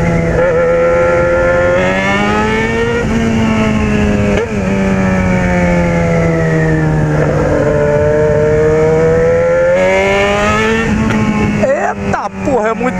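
A Yamaha XJ6 motorcycle, fitted with a new drive chain and sprocket set, revs hard close by. The engine note climbs and falls in a loud, sustained whine with a sharp throttle blip near the end.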